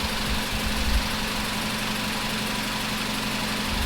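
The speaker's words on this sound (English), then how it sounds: "if you hear the engine right now, it sounds" A car engine idles steadily up close, its cam timing drifting with a fault that is worse when cold; a low, even rumble with a faint mechanical knock continues unbroken and alone.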